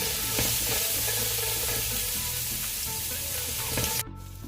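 Garlic sautéing with red chilies in a pan for a cheesy pasta, giving a loud, steady close-up sizzle throughout that cuts off abruptly near the end.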